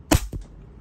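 A WE Hi-Capa T-Rex 5.1 gas blowback airsoft pistol fires two sharp, close cracks in quick succession, the first louder, each with a snappy slide clack.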